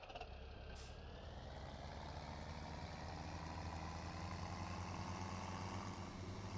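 A tractor engine idles in a PS4 farming video game, making a steady, loud, low drone that runs unbroken throughout with no talking.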